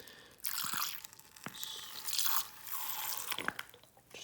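An apple is pushed down into a bowl of water, giving close splashing and sloshing in several bursts with a few sharp drips and knocks between them.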